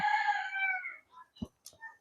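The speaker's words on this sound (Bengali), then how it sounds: "ঠান্ডার ঠেলায় ভিতরে মুরগিগুলো চিল্লাচ্ছে" Chickens calling inside a village poultry farm shed in cold weather, one drawn-out crowing call followed by a few short clucks and squawks, close and clear.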